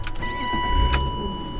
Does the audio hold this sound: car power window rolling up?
yes